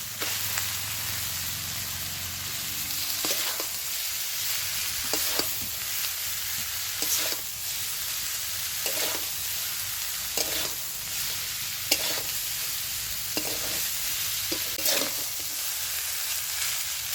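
Chow mein noodles stir-fry in a hot pan with salt and turmeric: a steady, loud sizzle runs throughout, broken every second or two by the scrape and clack of a metal spatula tossing the noodles.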